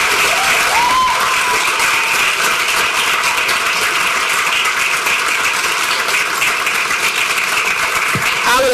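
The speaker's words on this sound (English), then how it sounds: "Can you give a round of applause one more time?" Audience at a Houston school district award event breaks into steady, loud applause, a dense wash of clapping that fills the room without a break from start to finish.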